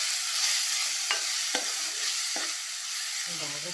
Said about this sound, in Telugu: ఉల్లిపాయ ముక్కలు వేగినాయి,